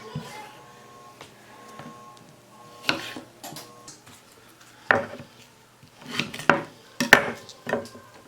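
Knife strokes chopping the ends off Brussels sprouts on a cutting board for roasting, a handful of sharp, separate knocks against the board spaced irregularly amid a quiet room with a faint background hum.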